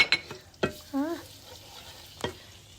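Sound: butter sizzling and being stirred in a pan

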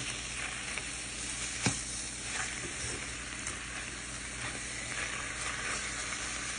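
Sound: chicken frying in a pan

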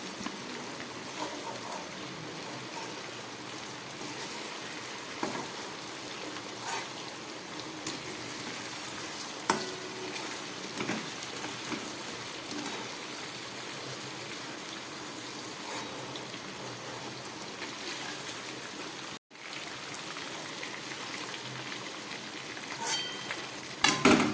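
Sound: chicken pieces frying in oil

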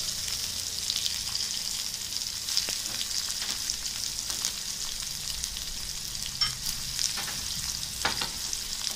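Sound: dried chillies and onion frying in spluttering tempering oil

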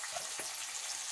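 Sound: garlic leaves added to frying onions, sizzling

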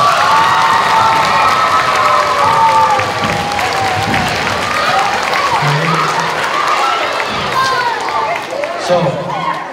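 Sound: children applauding and cheering for the fire department

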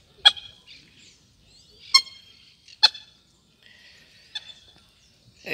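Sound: ducks and ducklings at a lagoon

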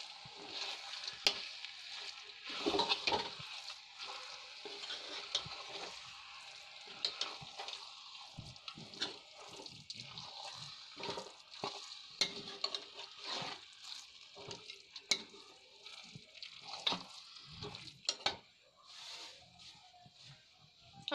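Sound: stirring carrot halwa with desi ghee in a pan

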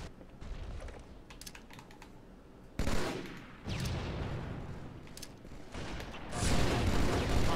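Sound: gunfire in Halo 2 video game

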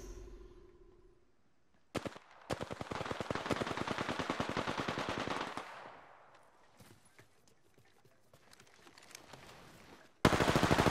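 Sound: gunfire in the video game Apex Legends

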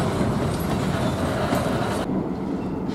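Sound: freight train passing

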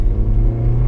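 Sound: 2015 Subaru Legacy accelerating hard

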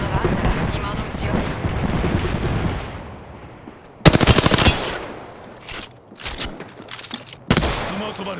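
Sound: gunfire in the video game Apex Legends

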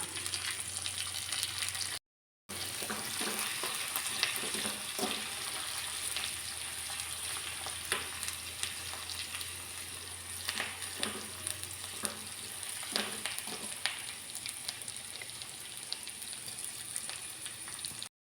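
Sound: green chili, dried chili and curry leaves sizzling in pan for rasam

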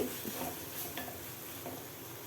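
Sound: mushroom stuffing stirred and frying in a pan

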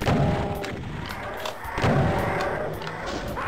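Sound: gunshots in a video game

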